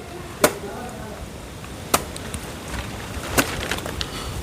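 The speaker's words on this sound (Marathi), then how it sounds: "बघा, पप्पा फणस कापतात इथे." A jackfruit is chopped in a Konkan village during the monsoon, three sharp, isolated chopping blows spaced about a second and a half apart over quiet outdoor background.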